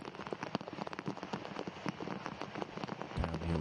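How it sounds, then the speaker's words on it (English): Rain falls steadily on a golf course during a women's professional tournament, a dense close patter of drops with no talking, ending in a low hum. "as the rain continues to fall"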